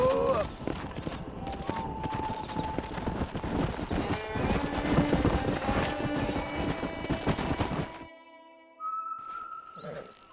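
Horse hooves clip-clop steadily at close range in a Western video game, with whistling and other in-game sounds over them, before the hoofbeats stop and a short quieter stretch follows.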